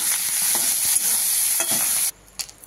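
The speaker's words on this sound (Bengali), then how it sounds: "তেলটা গরম হয়ে গেছে, আমি দিয়ে দিলাম চিংড়ি মাছটা।" Prawns frying in hot oil in a wok give a loud, steady sizzle with faint stirring clicks, cutting off sharply near the end to leave a quieter pause and a couple of brief knocks.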